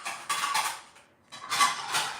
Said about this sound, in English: Dishes are being put up. That's what you're hearing.